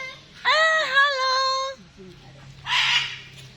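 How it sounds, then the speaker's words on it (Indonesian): A cockatoo gives a harsh, drawn-out squawking call, then a shorter raspy screech after a pause, fairly close and loud, with a low hum in the background. "Burung kakatua. Halo, burung kakatua."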